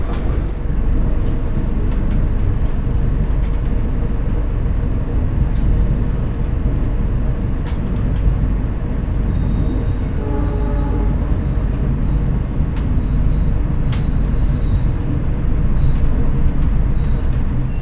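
A passenger train pulls into Kroya station in Indonesia, heard from on board as a steady, loud rumble of wheels and carriage noise with faint squeals and clicks, and no talking.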